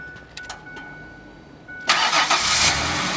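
An 89,000-mile Ford Ranger pickup engine starting after a fuel pump replacement: a quiet lead-in with faint clicks, then a sudden loud catch that settles into a steady, close idle.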